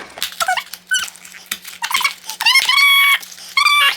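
A Bloxies beaver toy gives repeated high squeaks as it is pressed, several short bursts and longer squeals close up with brief pauses between them.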